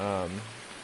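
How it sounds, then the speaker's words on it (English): Heavy rain hisses in Farming Simulator 19 as a steady wash of noise, following a short burst of a voice at the start. "right now it's raining like crazy"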